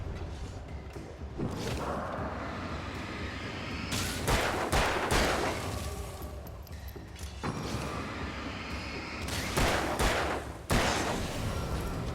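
Shotgun blasts in the PC video game Alan Wake, loud booming shots repeated at irregular intervals over a steady game background, with several heavy bursts spread across the stretch.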